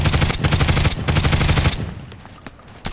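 Rapid automatic fire from an HK G36C rifle in the shooter game Contract Wars, a loud sustained burst of closely spaced shots lasting well over a second, then a few isolated quieter shots.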